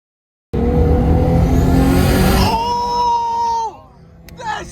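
A turbocharged Volkswagen GTI engine revs hard in a loud, close burst, its rising whine holding for a few seconds before it drops off abruptly, with excited voices reacting afterward.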